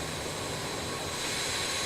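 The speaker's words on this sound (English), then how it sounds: "So we have 4 running engines." Four jet engines of an RJ Professional airliner in Microsoft Flight Simulator run at a steady idle, giving a constant broadband roar with a faint high whine, unbroken and alone.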